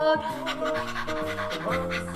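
A person's voice imitates a dog's rapid panting, quick rhythmic huffing breaths repeated steadily, close and clear.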